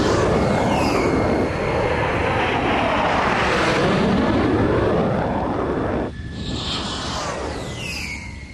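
Indian Air Force fighter jets such as Sukhoi and Mirage 2000 at a forward air base near the China border give a loud, continuous engine roar with sweeping pitch shifts that eases somewhat near the end.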